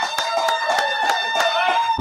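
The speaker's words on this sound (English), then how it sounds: "Give them a big round of applause, guys." An audience applauds two Cincinnati football legends, Paul Alexander and Dave Lapham, at a Ring of Honor event, with a steady scatter of hand claps close by in an indoor room.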